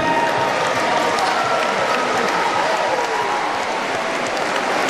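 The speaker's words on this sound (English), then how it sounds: "Gentlemen, we ask you to stand and applaud the Culture and Lifestyle Award winners." Audience at a radio station's Culture and Lifestyle Awards 2018 ceremony giving a standing ovation to the award winners, dense sustained applause from a large crowd filling the whole stretch at a steady, loud level.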